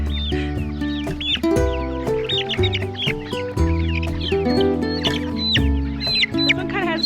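Chickens on a homestead pasture clucking and calling close by, with a busy overlapping run of clucks, squawks and rising crows-like calls that continue without a break and with no talking.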